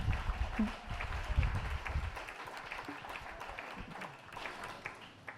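A church congregation applauds in praise of Jesus, with strong initial clapping that settles into a steady, moderately distant round of applause mixed with scattered voices.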